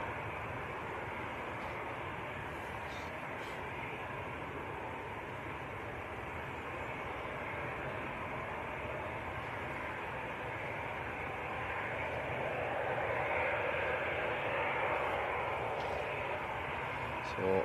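EasyJet Airbus A320 at Manchester Airport, a steady broad engine roar rumbling on and building slightly louder toward the end, heard at a distance outdoors.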